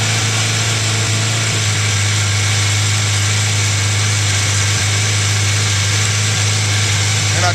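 A Suzuki Katana 600 motorcycle engine runs steadily after a cold start, holding a raised, even idle with a constant hum and no voices.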